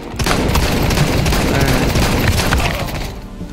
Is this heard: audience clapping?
no